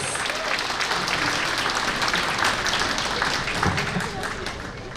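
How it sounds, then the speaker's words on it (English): A loud, sustained round of applause from an audience at a Hmong American caucus kick-off event, dense steady clapping filling the whole stretch with no break. "So please give him a loud round of applause."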